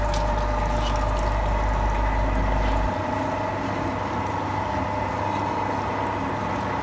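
TAKYO TK 750W mini sugarcane juicer pressing sugarcane, a steady close motor whir with a smooth grinding hum, fairly loud and even, a low rumble dropping away partway through.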